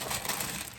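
Wrapping paper crinkles and crumples as a Christian Dior hat basket bag package is gently unwrapped: a dense, close, continuous rustle with no voices.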